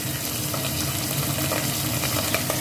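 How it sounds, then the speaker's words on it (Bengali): Small bacha fish rubbed with salt and turmeric frying in about four tablespoons of oil in a wok, a dense, steady, close sizzle with no break. "এখন নুন হলুদ মেখে এগুলোকে প্রথম আমি ভেজে নিচ্ছি"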